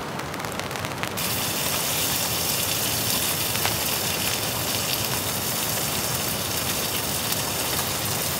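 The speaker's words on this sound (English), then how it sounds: "The fire's cranking, we have a nice rain falling." Rain falling at a campsite beside a crackling fire, a loud, steady hiss of heavy rainfall that spreads across the whole sound after a brief quieter start, with no talking.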